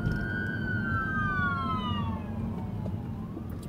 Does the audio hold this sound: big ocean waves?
no